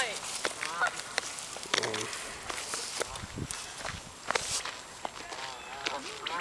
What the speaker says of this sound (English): Canada geese, aren't they? They're geese.